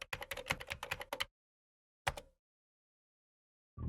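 Computer keyboard tapped in a quick burst of about a dozen crisp keystrokes, then a single isolated key press after a pause, and one more keystroke starting at the very end, close and clear in an otherwise silent room.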